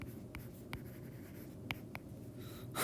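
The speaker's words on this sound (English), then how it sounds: "I'm just going to write, tell me." Pen writing on graph paper during a kinematics lesson: faint, close scratchy strokes with a few sharp taps and short pauses, and no speech.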